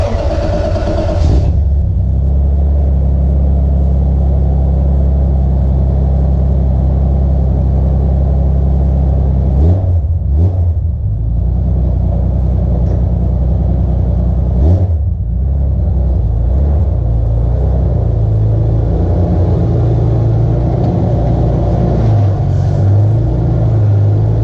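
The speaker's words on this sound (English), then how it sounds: "put the Cressida in the middle of the garage" A Toyota Cressida's engine rumbles steadily at close range inside a garage as the car is moved, with a loud low drone, a couple of brief dips and a slight rise in pitch near the end.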